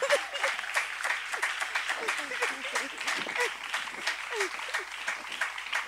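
A church congregation applauds in acclamation, a steady broadband patter of many hands clapping throughout, with voices speaking and calling over it.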